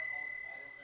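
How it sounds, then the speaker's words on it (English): A single bright bell tone rings and sustains steadily for under a second, fairly faint, with a quieter second tone fading partway through. "we just heard the bell"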